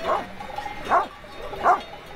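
Livestock guardian dogs barking near a flock of sheep, three single barks spaced evenly about a second apart, moderately close over quiet background.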